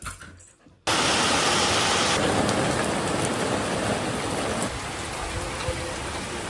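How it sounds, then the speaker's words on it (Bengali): Heavy monsoon rain pours outside in a dense, steady roar that starts abruptly after a brief quieter moment and keeps going unbroken. No distinct thunder rumble stands out. "দেখতেই পাচ্ছ পুরো বাইরে জোরে মানে মুষলধারে বৃষ্টি এসছে, তার সাথে সাথে মেঘও ডাকছে"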